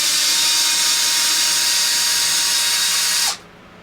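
Power drill removing screws from an XMAXX 8S RC car, a loud, close, steady high-pitched whir that cuts off abruptly just before the end.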